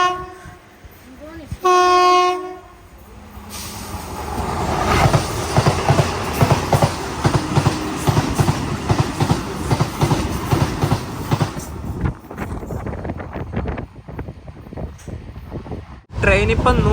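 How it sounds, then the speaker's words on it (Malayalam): Sleeper class coach of an express train running at about 120 km/h, opening with a short horn blast, then a loud, steady rush and rhythmic clatter of wheels on rails, with voices faintly present. "ട്രെയിൻ ഇപ്പം 120 km/h സ്പീഡിലാണ് പോയിക്കൊണ്ടിരിക്കുന്നത്."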